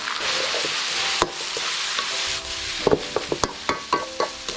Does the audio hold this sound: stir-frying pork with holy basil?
yes